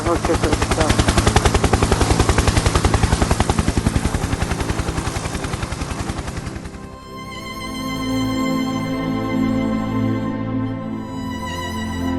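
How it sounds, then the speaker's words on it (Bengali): A helicopter's rotor chops in rapid, regular thumps for about seven seconds, loud and close, then gives way to sustained droning tones. "হেলিকপ্টার"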